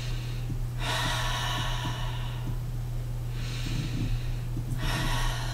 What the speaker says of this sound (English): And then you inhale again.